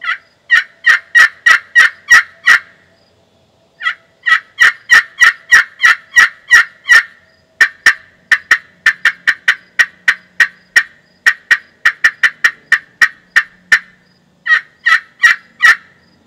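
A slate pot turkey call worked with a striker gives loud, close, rapid series of sharp yelps and clucks in rhythmic bursts separated by short pauses, with no voices.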